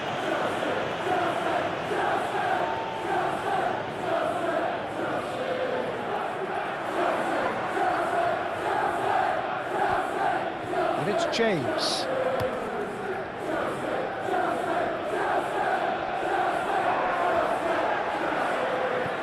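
A stadium crowd in the eFootball PES 21 simulation of the Chelsea versus Leeds United FA Cup semi-final makes a steady, even roar throughout, with a commentator talking over it.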